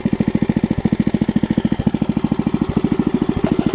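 A 50-year-old Merry Tiller's 5 hp Briggs small engine idling up close, with a fast, even chugging pulse that stays steady throughout; no voices.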